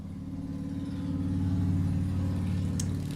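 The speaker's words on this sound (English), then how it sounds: "Very loud motorcycle." A loud engine passes nearby, a deep, steady low rumble that swells to a peak around the middle and then eases slightly, with a brief high-pitched squeal near the end.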